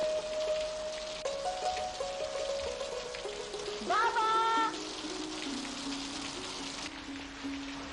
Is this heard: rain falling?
yes